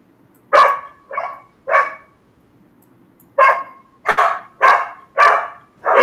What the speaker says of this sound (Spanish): Perro, Ezequiel.